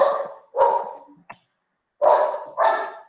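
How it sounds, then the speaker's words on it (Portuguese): A dog barks angrily in four loud, close, sharp barks, two quick ones, a pause, then two more, with no other sound between them. "O cachorro aqui tá zangado aqui"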